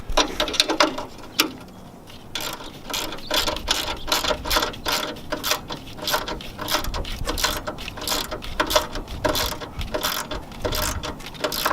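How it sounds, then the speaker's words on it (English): A ratchet tightens bolts on an auxiliary reverse light mount, giving quick repeated clicking strokes in steady bursts, close and fairly quiet, with no talking. "I'm gonna get these bolts tightened down first, and then we will cinch these down where at the angle I want them"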